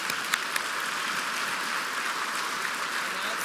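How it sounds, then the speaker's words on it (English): Applause from guests at a charity brunch, a continuous, even wash of many hands clapping at moderate loudness, with a couple of sharper claps near the start. "Let's give ourselves one more big round of applause for being generous."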